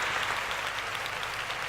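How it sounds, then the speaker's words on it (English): A canned applause sound effect plays on a podcast as a steady, moderately loud clapping texture with no pauses and no talk over it. "I can add some more applause if you like."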